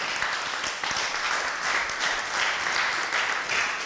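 A church congregation applauds steadily during a French-language sermon, with dense, continuous clapping filling the room at an even level throughout.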